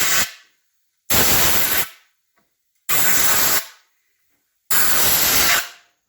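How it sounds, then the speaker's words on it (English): Compressed air from an air compressor is blown under the edge of a motorcycle handlebar grip on a KLR 650, sounding as four loud, close bursts of harsh hissing, each under a second long, separated by short silences. "take some compressed air. If you got an air compressor, blow it under the edge of the grip."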